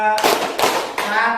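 Three sharp, evenly spaced hand claps ring out in a classroom counting game, with a voice speaking over them.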